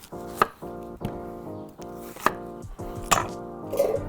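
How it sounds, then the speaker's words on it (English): A knife chopping fennel and shallots on a board for a seafood pasta sauce, outdoors, a few sharp near cuts spaced at an irregular rhythm with tonal ringing between them. "we're going to show off our chopping skills here"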